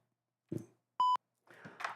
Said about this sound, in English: we hear all of your notifications on the phone